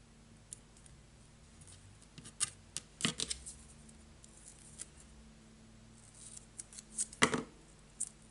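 Close, quiet snips of scissors cutting paper for a homemade Halloween card, scattered irregular clicks with a sharper cluster of cuts toward the end, no talking.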